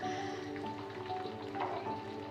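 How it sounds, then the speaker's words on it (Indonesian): Chicken liver frying in oil in a pan until browned and somewhat dry, a soft, steady crackling sizzle with a faint hum beneath and no talking. "Dan ini atinya juga aku goreng dulu sampai agak kecoklatan, sampai agak kering."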